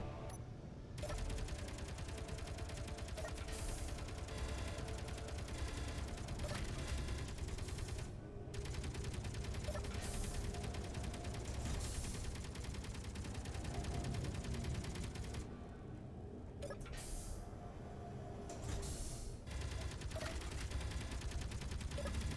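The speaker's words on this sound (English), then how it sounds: "Make sure all my turrets are actually firing on weapons." Turrets blaze away in the video game Space Engineers, a dense nonstop rattle of rapid gunfire with brief pauses between bursts, loud and continuous with faint sound-effect layers underneath.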